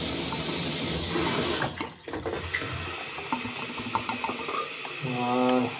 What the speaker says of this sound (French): Là je vais allumer l'eau. Ouvrir l'eau, vous allez voir.